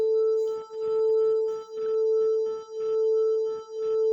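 Two steady phone tones of slightly different frequency sound together, their combined level swelling and fading in slow beats about once per second, clear and alone.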